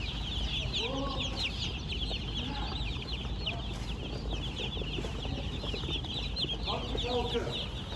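Chickens cluck in several short bursts over a dense, steady background of chirping and bird chatter at a large poultry farm, with a busy farmyard feel throughout.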